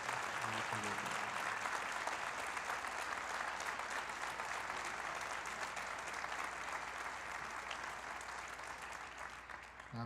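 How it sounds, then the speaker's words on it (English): Sustained applause from a concert audience in a school gym for student musicians of a marching band, dense and steady throughout, easing slightly near the end. "join me with one more round of applause for the kids"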